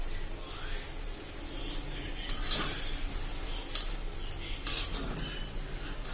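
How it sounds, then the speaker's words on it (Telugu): Urad dal and rice being fried in a pan until golden for a simple evening snack, giving a steady low sizzle with occasional scrapes and clinks of a stirring utensil against the pan, close and continuous. "వేయించుకోవాలన్నమాట."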